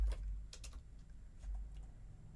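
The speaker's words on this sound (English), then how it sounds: "I'm going to type out first name dot al." Quiet, close typing on a computer keyboard, a few quick clusters of key clicks with short pauses between them and no voices.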